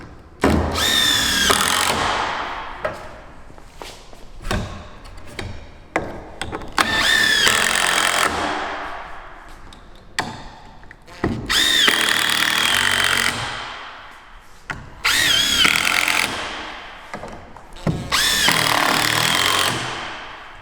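A power drill drives screws into timber while a garden studio is assembled, in repeated loud bursts of a couple of seconds each with short quiet gaps and handling knocks between them.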